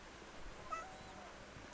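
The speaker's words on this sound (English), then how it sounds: "Longleaf forest cat." A longleaf forest cat in the Crimson Desert video game gives a single short, faint meow against a quiet ambient background.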